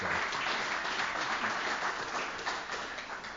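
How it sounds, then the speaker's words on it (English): Applause for Pete Wakeland at a tribal self-governance conference, a brief, fairly quiet round of clapping from the audience that tapers slightly toward the end. "let's give him another round of applause"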